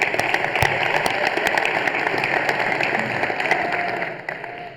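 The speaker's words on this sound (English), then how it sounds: "Let's give them a round of applause as well" At the 2025 Raiders' Choice Awards ceremony, an audience claps for family members in a continuous, even wash of applause that tapers off at the close.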